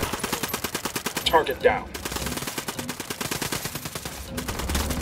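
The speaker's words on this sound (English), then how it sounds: "Opening fire." Rapid automatic gunfire in the video game Ghost Recon Wildlands, rhythmic bursts of shots nearly continuous through the clip with a short pause, a voice speaking briefly amid the firing.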